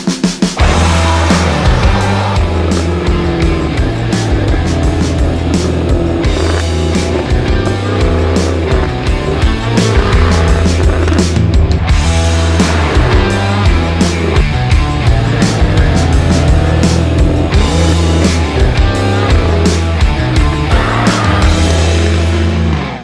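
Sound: Jaguar F-Type P450 sports car driven fast

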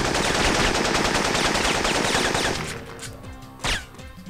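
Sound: gunfire in video game Syphon Filter

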